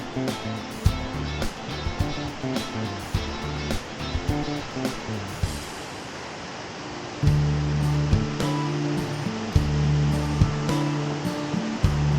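Steady rushing water of the Tagus river falling at the Molino de Arriba cascade in Peralejos de las Truchas, a continuous broadband roar that swells louder partway through, with no voices.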